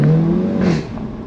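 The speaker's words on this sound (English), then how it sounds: "It sounds really good, this exhaust." A car exhaust revs briefly, a deep throaty burst that rises and then settles, heard close and loud.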